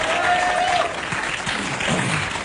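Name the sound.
audience applauding at a stand-up comedy show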